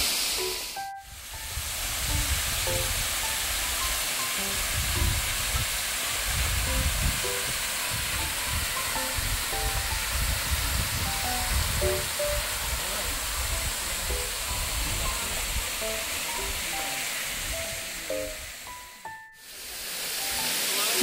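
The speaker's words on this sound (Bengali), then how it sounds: "আমি ব্যাক ক্যামেরায় বরং দেখাচ্ছি ওয়াটারফলসটাকে" Thangsning waterfall roars as a steady broadband rush of falling water, loud and continuous for the whole stretch, with faint birdsong chirps scattered over it.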